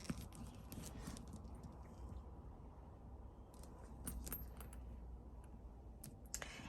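Keys jangle inside a Loewe Amazona 36 leather handbag, giving a few faint, scattered metallic clinks against a quiet background.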